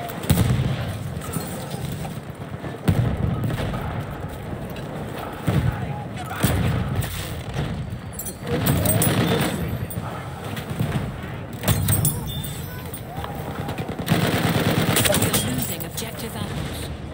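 Battlefield 1 combat brings dense gunfire bursts, heavy booms and grenade explosions at close range, with overlapping battle noise and soldiers shouting throughout.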